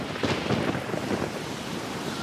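Cartoon thunderstorm rumbling in a steady broadband roar of wind and rain, with soft rolling swells of thunder throughout, no voices.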